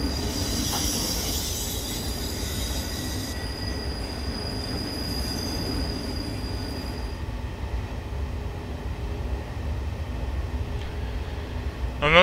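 Bombardier Traxx 186 electric locomotive from Train Simulator 2021, a steady rumbling run with rail noise and a high whine that cuts out partway, continuous and fairly loud with no speech.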